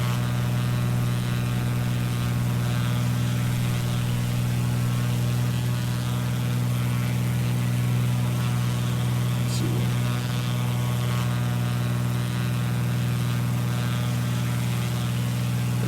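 Steady droning engine of a light sport Jabiru aircraft cruising at altitude in Microsoft Flight Simulator over southern Alaskan islands, a constant low hum with no change in pitch throughout.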